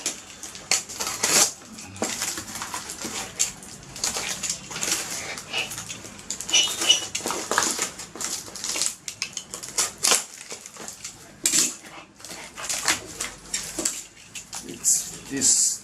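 Plastic packaging around a motorcycle radiator guard being cut with scissors, giving a steady run of crisp snips, crinkles and rustles close by for the whole stretch.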